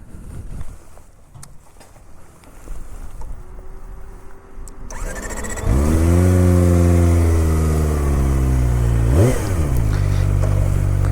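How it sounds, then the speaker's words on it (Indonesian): A Kawasaki ZX25R motorcycle on a quiet rural road in Saitama, Japan, cranks and fires up midway after a quieter stretch, then settles into a loud high idle with a sharp rev near the end. "sekarang kita nyalakan dulu motornya"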